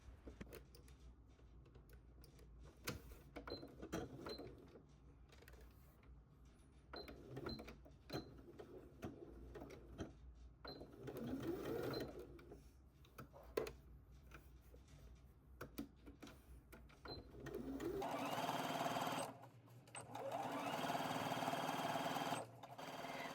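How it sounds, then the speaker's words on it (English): A sewing machine stitches around the raw edge of a fabric tie for a summer dress, running in several bursts with short pauses between and a louder, steadier whir near the end. "now we're going to stitch around that raw edge by 3/8 of an inch or 1 centimeter"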